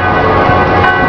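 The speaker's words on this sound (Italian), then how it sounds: "con questo suonare di campane a festa" Festive church bells ring in Genoa, a dense, loud, sustained metallic wash of overlapping tones filling the air with no speech.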